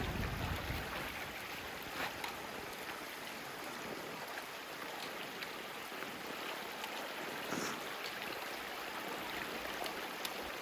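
A shallow creek crossing on the Sheltowee Trace trail burbles and trickles continuously at a low, steady level, a soft broadband rush without voices or other sounds.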